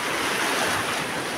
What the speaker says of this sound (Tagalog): Ayan po yung huni ng alon ng dagat.